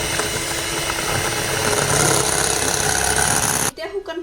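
A close electric mixer whirs and rattles steadily as sugar is beaten into cake batter, then cuts off abruptly near the end, leaving a voice speaking.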